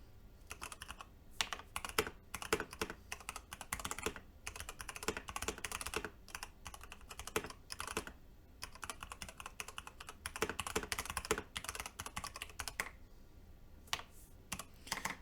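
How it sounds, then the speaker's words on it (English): Rapid, continuous typing on a mechanical keyboard with electrostatic capacitive linear switches, close and crisp, keystrokes clattering in dense bursts with a few brief pauses. "These are linear switches that work electrostatic capacitively. And my God, is it fun to type on."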